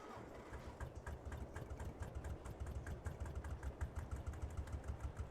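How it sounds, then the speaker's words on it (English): Vintage Porsche tractor engine idling in a farming simulator game, a steady low chugging with even rapid pulses, close and continuous with no talk over it. "this is a vintage Porsche tractor"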